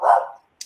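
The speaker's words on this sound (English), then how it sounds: "Somebody got a dog?" A single short dog bark, close and fairly loud, followed by a tiny high click after a brief silence.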